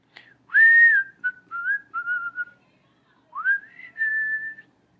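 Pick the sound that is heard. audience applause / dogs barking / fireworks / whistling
whistling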